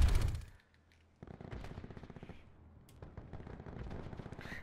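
Gunfire in Call of Duty Black Ops 4: a loud burst at the start, a short lull, then rapid automatic fire in quick rattling volleys, with further bursts continuing to the end, no voices.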